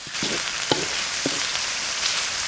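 Meat stir-fried in a hot pan gives a steady low hiss, broken by a few soft spatula scrapes and knocks.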